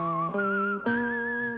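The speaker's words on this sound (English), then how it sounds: "Whistle me up a memory, whistle me back where I wanna be, whistle a tune that'll carry me to Tombstone" A clear whistled melody from a theme song, a few sustained, steady notes with a step change in pitch, heard close and alone with no talk.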